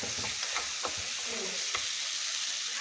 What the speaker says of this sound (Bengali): খুব ভালো করে মশলাটা ভাজা ভাজা করে নেব।